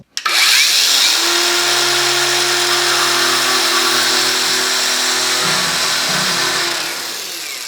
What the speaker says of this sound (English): Now we will perform same 2 tests with this grinding disc,